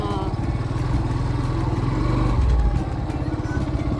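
A motorcycle rumbles steadily at close range with a low, throbbing engine note, riding along the Narmada riverbank, loud and continuous throughout.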